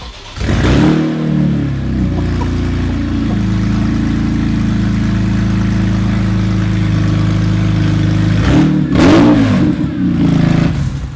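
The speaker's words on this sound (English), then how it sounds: "Should I start her up?" A BMW E46 M3 engine cranks and catches, settling into a loud, steady idle close by, then blips in a couple of sharp revs near the end; no talking.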